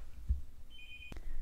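A telephone gives one brief electronic ring, a short high tone at moderate loudness over a quiet room hum, with no voices.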